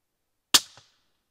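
A single suppressed shot from a B&T 300 SPR sniper rifle fired into dirt outdoors: one sharp, close crack with a brief decaying tail and a faint thud just after, then silence.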